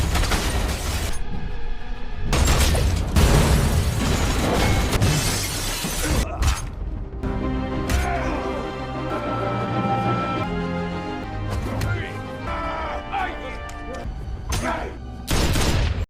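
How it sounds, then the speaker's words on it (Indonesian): A film gunfight between two former special forces soldiers, loud and close, with sharp bursts of gunfire, glass shattering, crashes and booms, separated by brief near-silent gaps, over a tense music score. "scene baku tembak yang epik pun terjadi antara dua mantan pasukan khusus ini"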